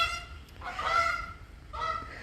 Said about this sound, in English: These geese are so loud.